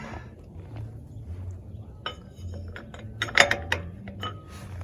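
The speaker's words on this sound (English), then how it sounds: "So we'll tighten that up and we'll try out that new torque wrench" A wrench tightens a wheel bearing nut on a ConMet truck hub, giving close, sparse metallic clinks and short ratcheting clicks over a low background hum, with one sharper burst of clatter near the end.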